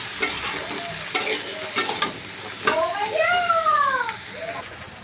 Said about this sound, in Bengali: এইটা দিয়ে এখন সুন্দর করে আমি ভেজে নিব ঢেঁড়সটাকে